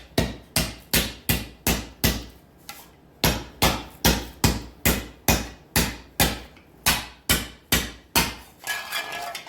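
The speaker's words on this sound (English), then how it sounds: "And when I use the sharp end of the hammer to do that a little bit." Close, crisp hammer strikes with the sharp end of a hammer on the sheet metal body of a 1913 Duesenberg cyclekart, a steady run of about eighteen ringing blows with one short pause midway.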